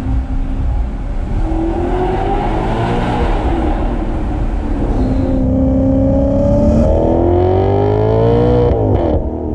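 A Maserati GranTurismo MC Stradale's engine revs loudly and continuously, its pitch climbing and falling through rising sweeps, with a strong throaty hum.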